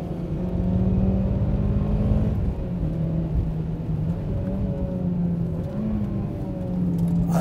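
A Mitsubishi Evo on a track drives fast, its engine a steady in-cabin drone that shifts in pitch as it rises and falls through gears, with no talking over it.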